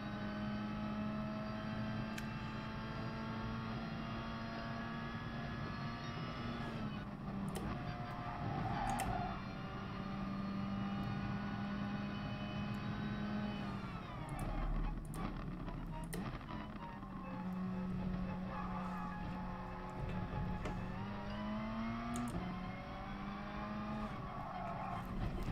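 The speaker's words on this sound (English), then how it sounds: "you can hear them sliding there now, where the tyres just have already lost their" Car tyres slide and squeal on a circuit in Gran Turismo Sport during an FIA Nations Cup online race, a steady engine drone running with long tonal screeches, loud and continuous throughout.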